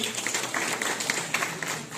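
A seminar audience claps for a volunteer being called up to the stage, a brisk, moderately loud spatter of hands with a few sharper individual claps standing out.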